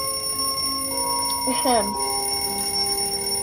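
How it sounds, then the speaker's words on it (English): An alarm clock in the Killer in Purple video game rings out as a bright, metallic chiming burst with sustained electronic tones beneath, mixed with a brief throat-clearing from a player. "Activate alarm clock."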